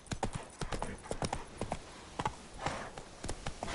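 Horse hooves clip-clop in The Witcher 3 game, a steady run of sharp, close trotting beats in an even rhythm, with faint ambient game sound beneath.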